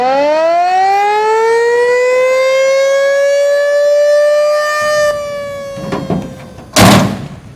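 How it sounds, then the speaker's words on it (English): A civil defense siren winds up into a loud, sustained rising wail that holds steady, followed near the end by a couple of heavy thumps like a door slamming. "Do you want to hear the siren?"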